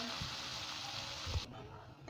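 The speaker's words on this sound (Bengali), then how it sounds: "এখন আমরা সেগুলো দিয়ে দিচ্ছি। এগুলো ব্রাউন হওয়া পর্যন্ত করে ভেজে নিব।" Two medium-sized chopped onions fry in hot oil in a pan, giving a steady close sizzle that drops suddenly about two thirds of the way through, with a light knock or stir.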